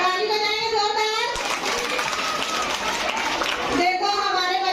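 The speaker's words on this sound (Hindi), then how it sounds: "ताली बजाएं जोरदार।" Children clap loudly together at a patriotic school event, a dense burst of applause lasting a few seconds between stretches of a voice.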